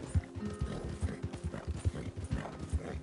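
Horse hooves clip-clop at a steady walking rhythm in Red Dead Redemption 2, an open-world Western video game, each step a distinct thud close by, with a low game ambience underneath.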